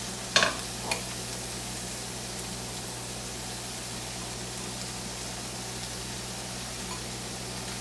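Cream cheese and onions melt in a pan and are stirred. The low, steady sizzling hiss carries a couple of faint early clinks and no voices.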